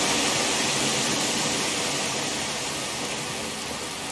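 Steady rain pours throughout in The Elder Scrolls V: Skyrim, a dense, even hiss that holds at constant loudness for the whole stretch with nothing else over it.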